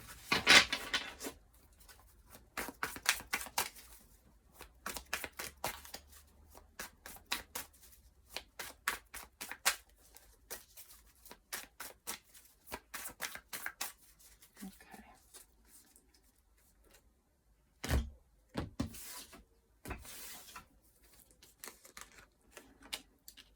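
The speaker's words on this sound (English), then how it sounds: "I'll be cutting the deck and I'll also be getting clarifiers." A tarot deck being shuffled and cut by hand, with bursts of rapid papery card riffles and flicks in uneven clusters, broken by brief pauses and a few sharper taps, close and fairly quiet.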